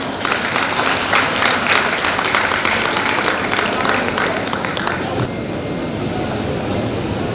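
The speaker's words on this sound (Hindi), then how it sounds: "जोरदार ताली" An International Youth Day audience breaks into vigorous applause, a dense wash of clapping that holds strongly for about five seconds and then drops away to quieter room noise.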